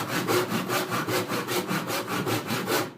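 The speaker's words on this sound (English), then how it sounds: "So I'm actually gonna make my own sawdust." A hand saw cuts through wood clamped in a vise to make sawdust, with steady, rapid back-and-forth strokes, loud and close, and no talking.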